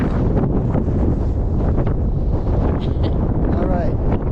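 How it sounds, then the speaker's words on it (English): Strong wind on a rocky hilltop during a scramble in Calico Basin roars steadily across the microphone, loud and close, with faint voices briefly audible beneath it. "a little windy up here at the top"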